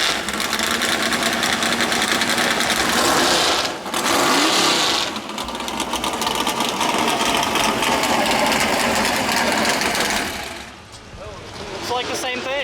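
At a dragway, a Fox-body Mustang with an old 302 V8 and twin turbos revs hard, a loud, dense buzzing roar that dips briefly twice and then fades near the end.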